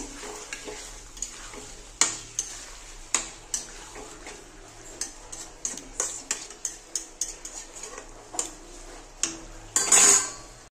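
Fish curry of lotte (Bombay duck) in spiced masala stirred in a pan, with repeated scraping and clinking strokes of a spoon against metal over a soft background sizzle, ending in a brief louder burst.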